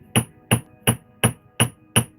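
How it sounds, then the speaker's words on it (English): Six evenly spaced hammer blows strike wire being shaped into a wire rose, each a sharp, loud, close metallic tap about half a second apart with quiet in between. "hammer that same spot"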